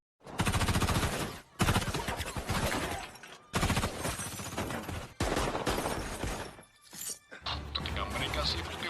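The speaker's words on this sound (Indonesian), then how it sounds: "Di saat itulah, baku tembak antara mereka terjadi." Rapid bursts of gunfire crackle in several loud volleys separated by short pauses, like an intense shootout with automatic weapons.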